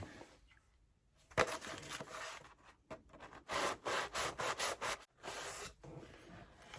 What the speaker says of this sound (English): my husband gave me a corner sanding block